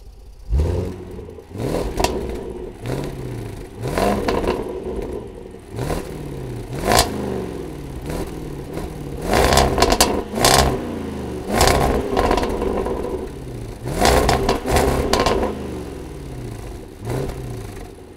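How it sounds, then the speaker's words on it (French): A Range Rover Sport SVR with a 575 hp engine idles with a rough, clattering rumble, then rises into a series of repeated throttle blips that surge and fall back, loud and close, with no talk over it. "Là je vais vous faire écouter à présent la sonorité du moteur"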